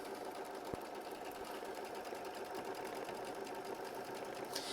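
An embroidery machine stitches out a quilt block through stabilizer and cotton poly blend batting, a continuous even mechanical hum with fine rhythmic needle ticking and one sharp click early on.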